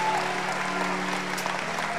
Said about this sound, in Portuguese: Se você orou isso com fé, aplauda Jesus onde você está